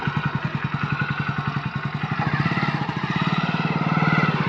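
A motorcycle engine runs close by with a rapid, even thumping pulse that grows slightly louder toward the end, with no talk.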